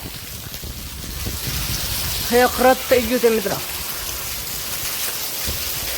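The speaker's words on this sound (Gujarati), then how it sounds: "ફાઇનલી મિત્રો વરસાદ આવવા માંડ્યો, શરૂ થઈ ગયું છે મિત્રો" Rain starting to fall outdoors gives a soft, steady patter throughout, while someone speaks briefly in the middle over it.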